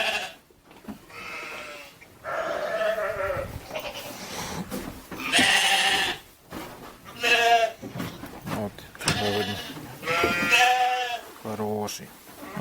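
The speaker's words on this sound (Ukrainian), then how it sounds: "Тут ось наші баранчики." Several sheep and rams bleat repeatedly on a sheep farm in Norway, some loud and close, in uneven bursts with short pauses between calls.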